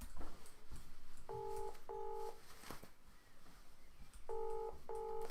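A telephone number is dialed on a keypad: two pairs of short, clear dual-tone beeps, one pair early and one near the end, over quiet room noise.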